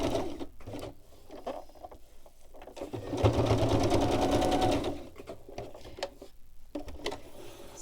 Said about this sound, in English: I'm just going to do a bit more stitching